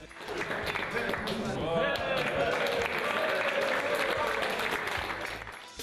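Guests at a birthday celebration in a Turkish hotel clap together in a sustained, fairly soft round of applause, with voices chattering and calling out underneath.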